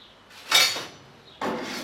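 A drip plate pulled from a supermarket juicer's cabinet gives two clattering knocks of metal or plastic parts, the second longer and sustained, close by.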